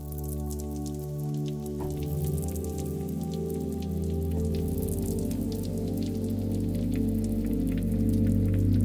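Sampled rain from a music sample library, transposed down low: a steady patter of drops over sustained tonal layers that swell gradually, with no talking.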